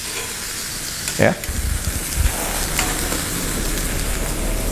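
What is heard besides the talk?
marinated chicken searing in a pan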